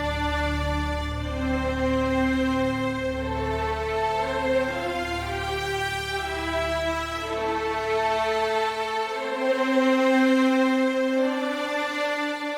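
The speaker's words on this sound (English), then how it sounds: "I started the whole arrangement with violin 1, violin 2 and double bass" A Witcher 3 style string arrangement in which two violin parts and a double bass play together over a deep sub bass, sustained bowed notes shifting in steady chords, with the low end dropping out near the end.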